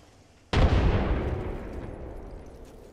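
A frag grenade detonates in the shooter game Apex Legends, one sudden loud boom with a long rumbling decay that fades over a couple of seconds.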